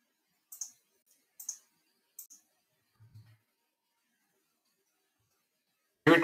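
Computer mouse clicking on a web page, a few sharp, isolated clicks spaced apart in near silence, with a soft low thump and then a sudden loud burst at the very end.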